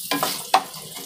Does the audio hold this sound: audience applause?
no